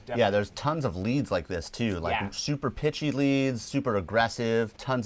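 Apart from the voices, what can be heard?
No everyday noise stands out behind the speech.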